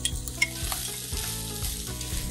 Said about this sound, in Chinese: 可以落埋其他的食材落去一起炒